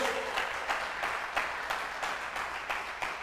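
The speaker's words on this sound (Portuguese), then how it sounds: "Dá um aplauso a Ele, pelo amor de Deus." A church congregation applauds after the preacher's call, a steady wash of many hands with soft rhythmic surges, moderately distant and fairly quiet.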